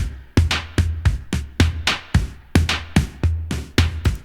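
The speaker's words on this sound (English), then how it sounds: "Then this one-shot snare" A crisp snare hit repeats steadily, about fifteen strikes in a regular rhythm, each sharp crack with a bright, noisy tail, loud and alone.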